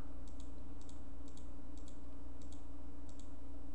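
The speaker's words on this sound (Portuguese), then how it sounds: "vou clicando, dando pequenos cliques, contornando o local onde eu quero selecionar" Small computer mouse clicks made while outlining an image area in Adobe Fireworks, paired light clicks repeating at a steady pace over a constant low hum.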